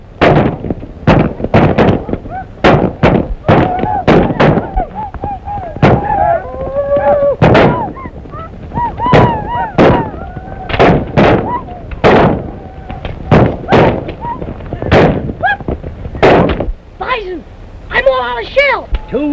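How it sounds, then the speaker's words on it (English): Gunshots ring out from a 1935 western, loud sharp reports fired rapidly and repeatedly, about a dozen or more in quick succession, with voices shouting among them. "I told you not to shoot too fast."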